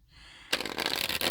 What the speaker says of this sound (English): I'm going to shuffle and cut 3 times